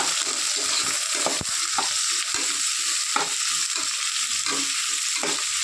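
Four thinly sliced onions frying in a pan of oil for vegetable biryani, a loud, steady sizzle with repeated spatula scrapes and stirs, close up and with no voices.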